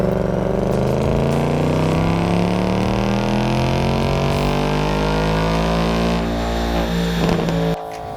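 A Ford Mustang's stock exhaust revs up in one long, loud, rising sweep of engine tone, then drops off abruptly near the end, close and dominant.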